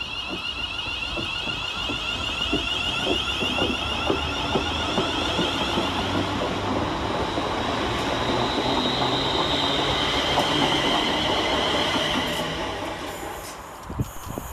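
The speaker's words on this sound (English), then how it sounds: "Taking us by surprise round the corner is 350-124, working the 1313 West Midlands Railway service from Walsall to Wolverhampton" A West Midlands Railway Class 350 electric train rolling through Smethwick Rolfe Street station, a steady loud rumble with rail clatter and a high whine, easing off near the end.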